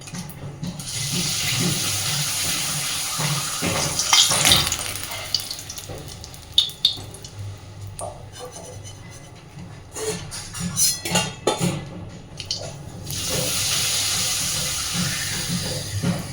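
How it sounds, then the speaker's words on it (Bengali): Papad lentil wafers deep-fry in hot oil, giving loud, close bursts of crackling hiss that surge and fade as each wafer goes in, with brief clinks between them and no talking. "এবার আমি পাঁপড়গুলো ভেজে নেব।"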